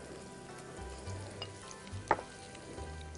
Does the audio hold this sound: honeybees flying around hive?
no